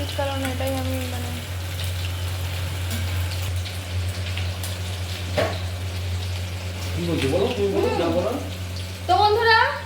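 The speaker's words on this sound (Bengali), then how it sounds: "গরম গরম পকোড়া ভাজা চলছে" Chicken pakoras deep frying in hot oil at home give a steady bubbling hiss and crackle, with a low hum and brief clatters, while a person talks toward the end.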